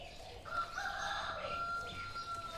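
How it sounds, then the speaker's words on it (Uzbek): A rooster crows at a lemon seedling nursery, one drawn-out call heard faintly at a distance over quiet background noise, with no talk. "Xo'rozimiz qichqiryapti hali ham."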